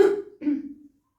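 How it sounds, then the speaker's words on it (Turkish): Two short, rough coughs from a nearby person with a sore throat, the second slightly drawn out, with a brief pause between them. "Kusura bakmayın boğazımın dolayı."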